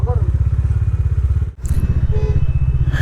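A motorcycle engine idles loudly and close by in a traffic jam on a rainy road, a rapid, even throbbing pulse that briefly drops out midway before resuming.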